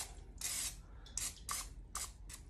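Several short hissing bursts of a spray can, quiet and close, separated by brief pauses.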